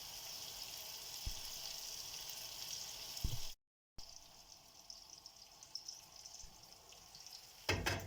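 Food sizzles steadily in a pan on a home stove during dinner prep, a continuous bright hiss with a few clinks, a brief dropout midway, and a louder crackle near the end.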